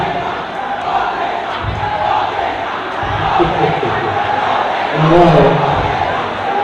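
A hardcore crowd at a faculties jaw war competition roars and shouts in a loud, sustained wall of sound, swelling near the end, with a voice briefly exclaiming over it.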